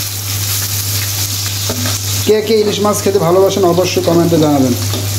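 Hilsa fish fries in hot oil with a constant crackling sizzle and a low steady hum, and a person starts talking over it partway through.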